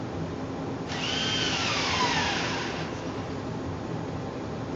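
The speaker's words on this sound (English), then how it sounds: "I'm going to put a screw in there." A power drill drives a screw into wood while a beach wall clock is built, a close, loud whirring burst of about two seconds that rises and falls, heard alone over a low background hiss.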